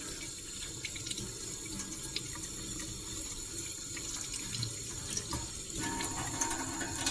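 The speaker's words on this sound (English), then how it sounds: "So on both ends, rinse it off." Running tap water pours steadily over a metal detecting find as it is rinsed at a sink, a continuous close splashing hiss with slight shifts as the object moves under the stream, no voices.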